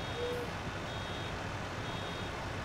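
A baler in the Farming Simulator 19 video game gives steady repeated beeps over a constant low engine drone, fairly quiet and with no talking.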